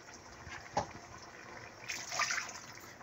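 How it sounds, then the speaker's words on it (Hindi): A cup of water poured into a pot of chicken karahi, a soft brief splash and gush that swells near the end, close and quiet without any talking. "और अब इसी कप से हम 1 कप इसमें पानी डाल देंगे"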